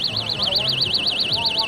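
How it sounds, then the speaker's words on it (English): A stun gun's built-in alarm shrieks after its ripcord is pulled, a loud warbling siren that sweeps rapidly up and down in pitch without pause, heard close over faint background murmur. "And it sounds that alarm at the same time."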